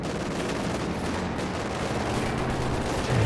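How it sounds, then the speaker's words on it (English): A .50 cal machine gun fires from inside a building in Company of Heroes 2 amid a dense, continuous battle roar of gunfire and explosions, steady and loud throughout with a heavier burst at the end. "50 cal inside the building there."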